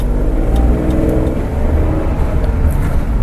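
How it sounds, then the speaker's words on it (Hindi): A Tata Nexon in sport mode accelerates hard from a standstill toward 60, its engine and road noise building in a loud, continuous drone heard from inside, with no talk. "तो देखिए यहाँ पे स्पोर्ट्स मोड लग गया है और अब ट्राई करते हैं 0 to 60 टाइम कितना लगता है।"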